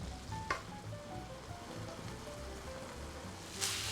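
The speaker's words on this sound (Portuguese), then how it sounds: "E a minha carne vai ficar aqui na panela agora até secar todo esse líquido." Ground beef cooks in a pan as its liquid dries off, giving a soft, steady sizzle and crackle with a couple of brief sharper pops.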